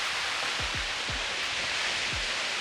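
Dense, constant rushing water from a waterfall at Waterfall Gully fills the clip, with a few soft low thumps underneath.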